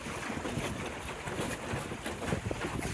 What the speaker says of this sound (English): Nice wind right now